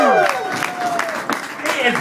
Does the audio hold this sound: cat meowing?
no